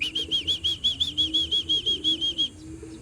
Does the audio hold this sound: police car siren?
no